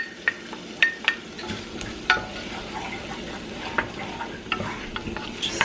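Diced smoked Cumberland ham being stirred in a frying pan, with a steady low sizzle and sharp scrapes and clinks of the utensil against the pan at irregular intervals, close and alone.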